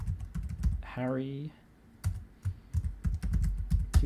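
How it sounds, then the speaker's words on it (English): Close computer keyboard typing in quick bursts of sharp clicks with short pauses, a brief whooshing tone partway through and a single spoken word. "So let's start typing"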